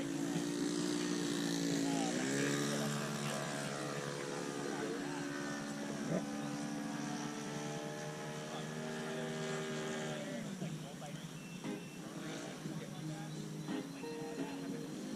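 An FMS 1300mm PA-18 Super Cub model airplane flies overhead, its electric motor whining with rising and falling pitch as it passes and maneuvers, under steady wind noise while people talk nearby.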